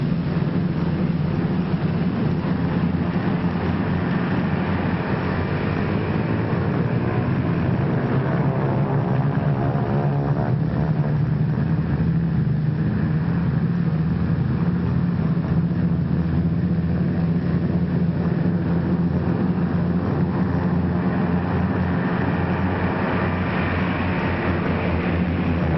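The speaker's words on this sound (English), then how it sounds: "More than a score of United States liberators warm up for the takeoff from a field somewhere in" Several US Liberator four-engine bombers warm up their engines together on a desert airfield in North Africa, giving a steady, loud droning roar that holds throughout with no pauses.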